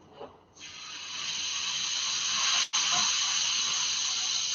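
Steak sizzles steadily in a hot pan, a bright, close, continuous hiss that swells after a quiet start and holds with a brief dip partway through.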